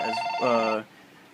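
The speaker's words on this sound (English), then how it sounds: "Sorry for the phone ringing." A telephone rings indoors during a close look at a Zero Tolerance 0301 folding knife. It gives one short, loud, tonal electronic burst that cuts off abruptly, and no one speaks.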